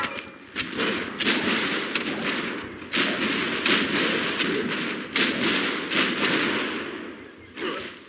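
Bombard siege units attacking in Civilization IV, a dense, continuous barrage of heavy thuds and booming impacts with rapid cannon-like blasts layered over a rumbling battle bed.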